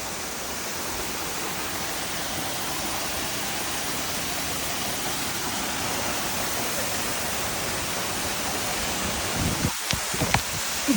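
The Kurtboğaz waterfall at Akkuş in Ordu, Turkey, makes a loud, unbroken roar of rushing water, close and steady throughout, with a few soft thumps near the end.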